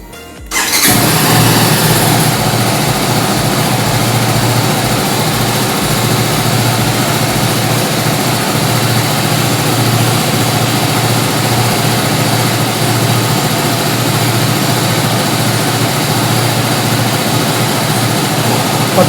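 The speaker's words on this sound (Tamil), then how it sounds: "இப்போ இன்ஜின் ஆன் பண்ணுவோம்." A TVS Apache RR310 motorcycle engine starts and then idles steadily, with a loud, continuous low rumble that holds for the whole stretch. No one speaks.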